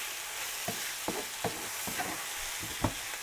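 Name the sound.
chicken sautéing in a pan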